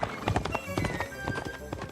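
Horse hooves clip-clop at a quick, even gait in the medieval video game Kingdom Come Deliverance 2, close and loud across two seconds, with a faint whinny-like tone mixed in.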